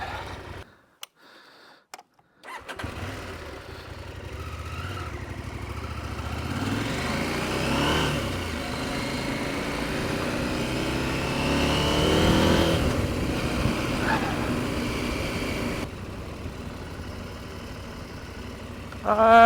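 Motorcycle on a narrow road through a pine forest, the engine revving and droning steadily with rising and falling pitch, after a few seconds of near silence and clunks at the start.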